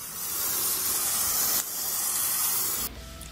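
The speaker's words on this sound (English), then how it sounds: "we're going to start off just spray painting the whole thing green" Aerosol spray paint hissing onto a blank wooden figure being painted green, loud close bursts in two long pulls with a short break between, then the spray stops.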